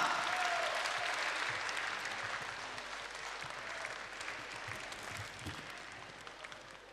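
Loud audience applause at a concert evening of songs, a dense, sustained clapping from a full hall that gradually fades away.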